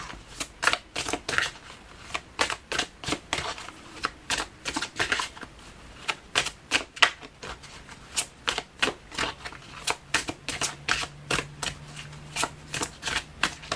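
Oracle cards riffled and shuffled by hand for a tarot reading, a long run of sharp, rapid bursts of flicking card noise repeating close up, with a faint steady hum underneath and no speech.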